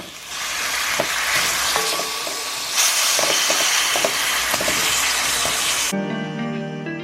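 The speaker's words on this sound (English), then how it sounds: "I live for that sound of food sizzling." Ginger, garlic and onions sizzling loudly in a hot pan, a dense continuous hiss with small pops and stirring scrapes; a brief musical tone enters at the end.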